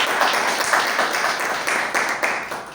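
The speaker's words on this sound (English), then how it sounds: "Huge round of applause for them." Audience applause at a public speaking club meeting, honoring a cricket team, a steady patter of many hands clapping that sits moderately loud and continuous, with faint voices underneath.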